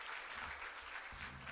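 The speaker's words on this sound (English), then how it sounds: "Let's give the Honorable Premier another round of applause" Audience applause for the Premier of KwaZulu-Natal at a Smart Province launch event, a steady dense wash of clapping filling the hall at moderate level, with a low murmur underneath.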